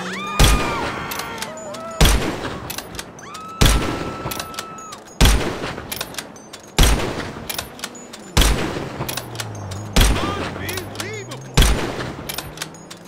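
Precision rifle fired rapidly in a video game, about eight loud, sharp gunshots in steady succession roughly every one and a half seconds, each with a short echoing tail, no talking over them.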